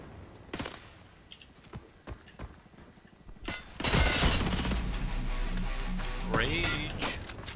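X95R rifle fire in the shooter game Hired Ops, heard as scattered sharp shots and then a sustained loud burst of automatic fire, with a voice talking over the shooting.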